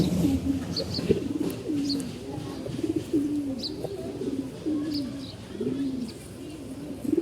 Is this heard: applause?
no